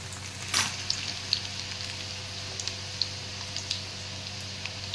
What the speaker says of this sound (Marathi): आता सर्व मसाला मी याच्यामध्ये फ्राय करणार आहे कढईमध्ये